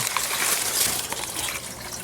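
Water gushes and trickles continuously into a pea gravel grow bed in an aquaponic garden, a close, steady splashing and bubbling flow with no voices.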